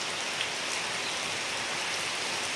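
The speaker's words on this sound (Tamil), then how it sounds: "சென்னையில் செம மழை" Heavy rain pours down in Chennai as a steady, dense hiss of drops striking surfaces, unbroken and fairly loud throughout, with no voices.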